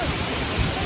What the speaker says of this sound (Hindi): यही है काजिरंगा का सबसे फेमस वाटरफॉल।